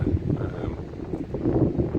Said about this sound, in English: Apologies if it's windy.